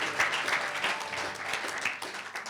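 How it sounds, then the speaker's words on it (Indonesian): A church congregation claps for God during a sermon, a dense, fairly loud round of applause with an uneven rhythm of individual claps that carries on throughout. "Mari kita beri tepuk tangan untuk Tuhan."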